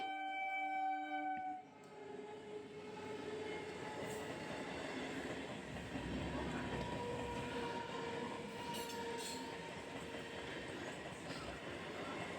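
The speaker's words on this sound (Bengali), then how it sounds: "তো ট্রেন আসছে দেখো।" A long train rolls past a level crossing with the gate down, a steady rumble of wheels and carriages with faint clickety-clack and squeal, preceded by a brief tonal horn at the start; no voices.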